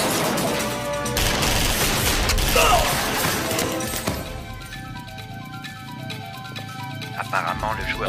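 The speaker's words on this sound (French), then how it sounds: "On dirait une fusillade." Bursts of rapid gunfire crackle amid clanking, metallic mechanical noise near a factory in an action film, with a chaotic volley early on giving way to scattered sharper cracks.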